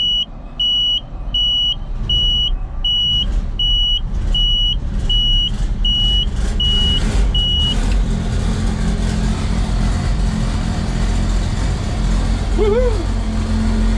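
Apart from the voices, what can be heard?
tractor engine cold-starting and idling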